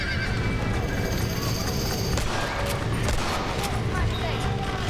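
Horses whinny and neigh inside a burning barn in the video game Red Dead Redemption, with hooves clopping and gunfire crackling, all under a dense, continuous wash of game noise with voices talking.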